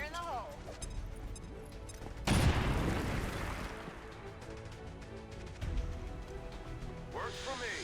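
A grenade blast in XCOM 2 erupts as one sudden loud boom, then a rumbling, debris-filled decay among scattered gunfire and game effects, with a voice speaking around it.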